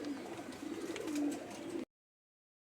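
Pigeons coo in a cage, a steady low murmuring over a soft background that runs about two seconds, then cuts to silence.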